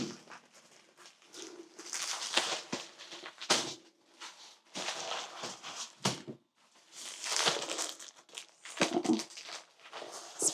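Paper towel packs crinkle and rustle in repeated bursts as they are handled and stacked on a laundry room shelf, fairly close and irregular, with no talking.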